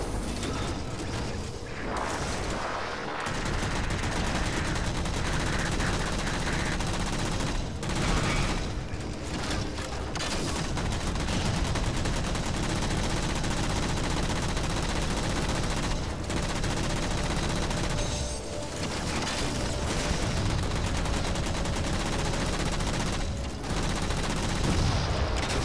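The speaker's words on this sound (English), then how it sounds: "I'm using a combination of gunfire" Gunfire in the Halo 4 campaign: weapons firing at enemy turrets in dense, continuous bursts of shots and mechanical clatter that run loud and close for the whole stretch, with no talk over them.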